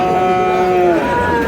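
A Sahiwal calf or cow lows at a busy cattle market in Aftabganj, Dinajpur: one drawn-out, fairly close call over a crowded background murmur of voices.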